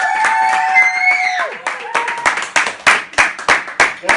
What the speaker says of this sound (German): Applaus, meine Damen und Herren!